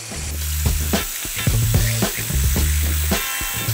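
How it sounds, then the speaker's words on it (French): Egg whites beaten by hand with a whisk toward stiff peaks for a vintage œufs à la neige, heard as a loud, steady run of rhythmic scraping strokes against a bowl, close and with no voices. "nous attaquons de monter nos blancs en neige avec un fouet"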